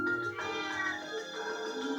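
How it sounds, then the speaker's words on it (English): A cat in the video game Trails of Cold Steel gives a drawn-out, wavering meow, close and clear, filling the short moment with no talking over it. "Oh, strange cat."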